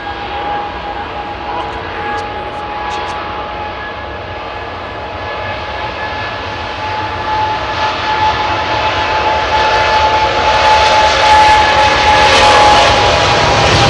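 A United airliner taking off at Heathrow Airport on Christmas Day gives a loud, continuous jet roar that builds steadily in strength and brightness, with no talk over it.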